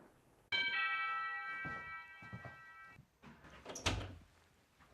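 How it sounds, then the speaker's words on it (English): A bell on a rural porch post office rings once, a bright ringing tone sustaining for a couple of seconds, followed by door clunks and movement. "Customers ring a bell and are then served through one of her windows."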